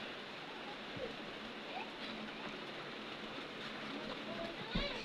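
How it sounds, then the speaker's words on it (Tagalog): Heavy rain pours in a steady, dense hiss that stays loud and unbroken throughout, with a few faint, brief knocks and rustles surfacing near the end. "ang lakas ng ulan dito sa amin kaya walang pasok."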